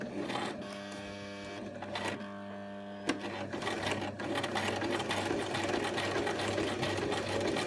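A sewing machine stitches a jeans hem through a thick bulk of denim, whirring steadily in close, even bursts with short pauses between runs; no one speaks.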